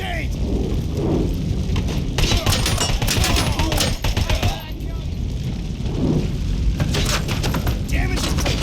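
Gunfire in the Robocop Rogue City video game: dense, loud bursts of rapid shots and heavy booms, almost without pause, with a brief lull midway.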